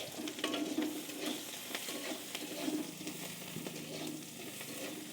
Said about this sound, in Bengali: তার উপর দিয়ে দিলাম আগে কুচিয়ে রাখা পেঁয়াজ